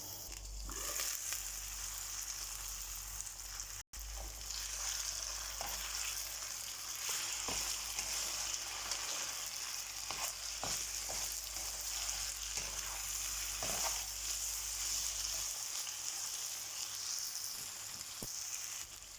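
Steady frying sizzle of broccoli in a pan, continuous crackle and hiss with occasional light pops and stirring clatter, close and moderately loud.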